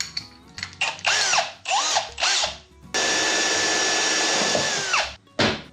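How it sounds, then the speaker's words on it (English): A power drill bores holes in the back of a vehicle's center console, nearby and loud: several short whining bursts that rise and fall, then one long steady run of drilling that cuts off sharply, with a brief burst after it. "I do just need to drill a couple of holes in the back here as well"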